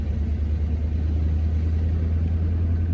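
A diesel Chevy K10 truck engine runs at a steady idle, giving a continuous low rumble with no change in pace across the few seconds and no voices.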